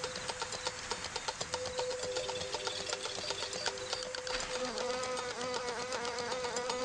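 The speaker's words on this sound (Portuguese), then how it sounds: "Elas batem as asas muito mais vezes por segundo do que muitos outros insetos parecidos." True flies buzz in flight with rapid wingbeats. Their steady, close, high-pitched drone holds a wavering tone and fills the moment alone.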